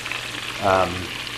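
Keftedes, Greek meatballs, fry gently on the cooler side of a burner, a low steady sizzle close by with a brief swell of crackling midway and no talk.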